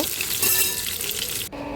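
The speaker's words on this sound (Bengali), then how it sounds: "হয়ে গেল আলু ভাজা।" Potatoes frying in oil, a loud, close and steady hiss that swells briefly, then drops away abruptly to a quieter sizzle in the last moments, with no voices.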